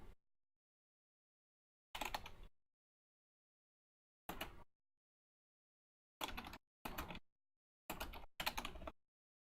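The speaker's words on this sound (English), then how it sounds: "You can just listen to me typing." Short bursts of computer keyboard typing in a quiet studio room, six or seven brief clusters of keystrokes separated by silent gaps, close and fairly soft.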